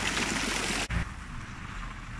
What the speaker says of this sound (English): I've just come away from the fountain a little bit because it's quite noisy, especially on the microphone